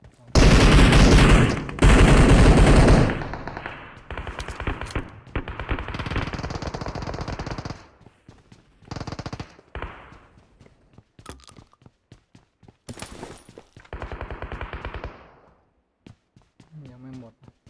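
PUBG Mobile gunfire comes as loud automatic bursts and scattered single shots, close and sharp, with pauses between them and lighter clicks and footsteps near the end.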